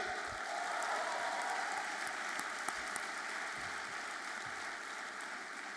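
Graduation-day audience at a business school ceremony cheering and applauding the graduating class, a steady dense wash of clapping sustained across the whole stretch with a few sharper claps standing out.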